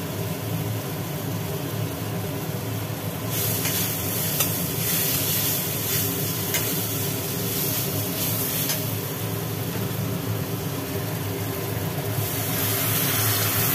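Tilapia curry sizzles steadily in a pan as it is stirred, a continuous close frying hiss with scraping stir strokes throughout and no talking.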